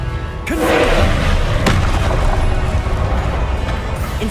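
Confringo spell blasts in Hogwarts Legacy land as a loud thumping impact followed by a sustained rumbling crash, with a second sharp hit shortly after and continuous noisy game action underneath.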